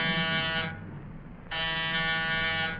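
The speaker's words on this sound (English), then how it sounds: "Push the buzzer." Buzzer at an apartment door sounds in two long, loud, steady electric bursts separated by a short pause.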